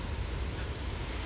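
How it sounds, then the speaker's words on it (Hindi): Ocean waves wash steadily onto Agonda Beach in South Goa, a continuous broadband surf roar with wind rumble across the microphone and no distinct breaks. "पानी है, लहरें उठ रही है हर बीच की तरह"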